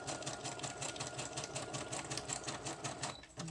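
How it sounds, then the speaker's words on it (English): A quiet sewing machine hums and ticks steadily, sewing down the edges of pieced paper, fairly faint and alone. "I'm sewing down some edges here"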